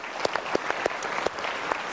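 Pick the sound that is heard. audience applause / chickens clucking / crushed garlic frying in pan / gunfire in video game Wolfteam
audience applause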